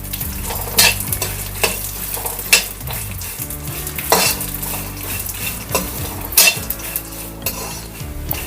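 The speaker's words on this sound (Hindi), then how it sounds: "तो सबसे पहले हम ड्राई फ्रूट को भून लेते हैं और इसी में हम डाल देते हैं थोड़ा सा खसखस" Dry fruits and poppy seeds roast in a kadhai while a metal spoon stirs and scrapes, giving repeated loud clanks over a soft frying sizzle, with a low hum underneath.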